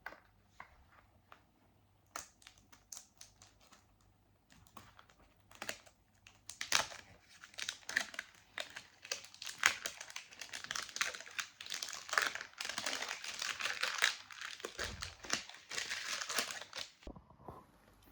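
Crinkling foil wrappers and clicking tin sounds come as a Poké Ball tin holding Pokémon booster packs is opened, quiet at first and then a busy, close run of rustles, crackles and taps.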